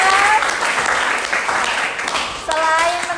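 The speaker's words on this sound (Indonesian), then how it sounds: "tepuk tangan untuk Rizal." Classmates clapping in a classroom for a student after a group presentation, brief lively applause with children's voices and talk mixed in.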